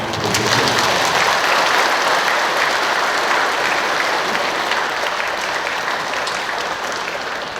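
Warm applause from a Catholic parish congregation at Sunday Mass in Yeonsu Cathedral, Incheon, welcoming the priest; dense, steady clapping fills the church throughout and tapers slightly toward the end, with no voices.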